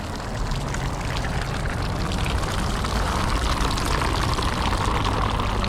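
Heavy rain pours onto the roof and metal flashing of a new paint booth, a loud, unbroken rushing roar heard from inside, steady from start to finish with no speech.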